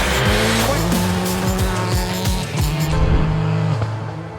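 A rally car at speed on a gravel stage through hanging dust, its engine loud and close, with rising and falling revs across repeated gear changes and tire noise on the loose surface.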